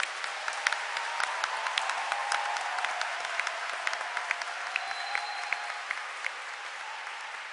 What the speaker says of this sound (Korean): 11지구 연합성가대 위해서도 크게 박수 한번 내주겠습니다